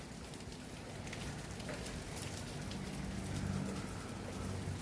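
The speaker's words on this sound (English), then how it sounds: "it's just like just a rainy day" Steady rain pours during Hurricane Milton, heard from a house: a dense, constant hiss of falling water and drops on surfaces, moderately loud and unbroken, with no talking.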